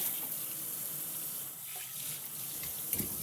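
Water runs steadily from a tap while parts from a VW MK2 Rallye are rinsed, a continuous splashing hiss with small knocks near the end.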